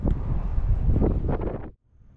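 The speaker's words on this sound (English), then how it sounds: "and it's windy" Strong gusts of wind buffet the microphone outdoors while fishing for catfish, a loud rumbling roar that cuts off abruptly near the end.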